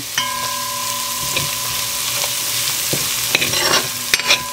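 Garlic fries in oil on a stovetop for a spicy mango kuchela: a continuous close sizzle over a faint steady hum, with a few light scrapes and clatters from stirring toward the end.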